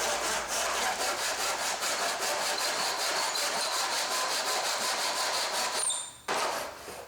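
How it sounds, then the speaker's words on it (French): A skirting board is hand-sawn in a miter box, a steady run of rapid rasping back-and-forth strokes, close and loud, with a brief pause near the end before sawing resumes. "j'utilise une boîte à onglets qui permet entre autres de faire des coupes à 45 degrés"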